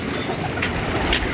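Pigeons from a pigeon-fancier's flock coo softly and repeatedly at close range over a steady, noisy outdoor background, with no voices.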